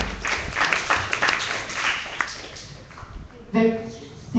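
An audience applauds at a Malaysian user experience design meetup, a dense wash of clapping filling the room for about three seconds before it fades and a voice begins speaking.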